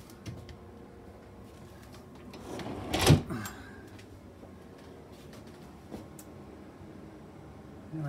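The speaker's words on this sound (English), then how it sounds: "Sliding door, pocket door." Sliding pocket door in a tiny home fifth wheel trailer, one brief rolling slide near the middle, fairly close and moderately loud in a quiet room, followed by a faint knock.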